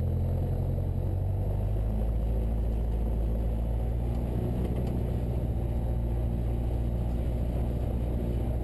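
A Cessna 172 piston engine held at 1700 RPM for a run-up, a loud steady droning rumble heard from inside the cabin, unbroken and even for the whole stretch.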